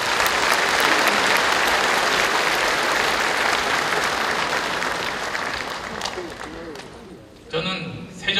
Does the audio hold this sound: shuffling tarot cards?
no